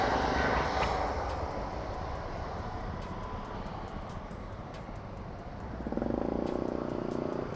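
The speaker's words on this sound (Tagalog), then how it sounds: "lilipad na yung aeroplano" An airplane taking off nearby: a loud, continuous jet engine roar that swells again toward the end, heard from a roadside with traffic noise underneath.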